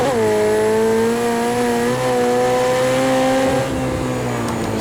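A race car engine in the video game Project CARS 2 revs steadily with a loud, sustained droning note that rises slightly and holds, playing continuously on its own with no talking.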